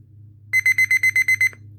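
A Panasonic RF-016 pocket radio alarm clock's alarm sounds as a loud run of eight sharp, evenly spaced electronic beeps, starting abruptly after a quiet moment with a low hum underneath, then stopping.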